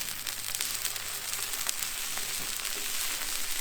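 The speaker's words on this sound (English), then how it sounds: "So we'll start on the outside, a little bit cooler, so you can hear those searing." Food sears on an OFYR grill plate at its cooler outer edge, giving a continuous soft sizzle with light crackles, fairly quiet and steady throughout.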